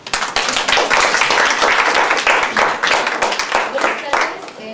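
An audience claps at a school biology-lab presentation on photosynthesis, a dense burst of close applause that swells and holds for several seconds before tapering off.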